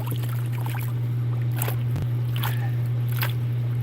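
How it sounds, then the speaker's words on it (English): A giant crane runs in the background at football stadium renovations, producing a steady low mechanical hum that holds constant throughout, with faint splashing and scraping of water nearby. "You guys hear that machine running in the background? It's a giant crane."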